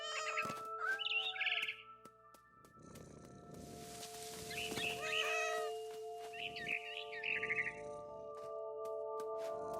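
A cat meows in the video game What Remains of Edith Finch, several short mid-pitched calls over steady ambient game music with a faint bird chirping nearby.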